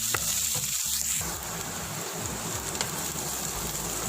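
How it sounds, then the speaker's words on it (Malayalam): Ingredients for chicken Kashmiri are sautéed in a pan until browned. A loud, steady sizzle fills the clip, with scraping stirs from a spoon near the start. "നല്ല ബ്രൗൺ കളറാവും വരെ ഒന്ന് വഴറ്റിയെടുക്കാം."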